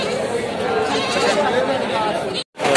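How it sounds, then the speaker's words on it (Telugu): At a Saturday goat market in Mydukur, goats bleat amid a dense crowd murmur and chatter, a steady busy wash of livestock calls and voices filling the scene. "ఇక్కడ మూడు ఉన్నాయి మేకపోతులు"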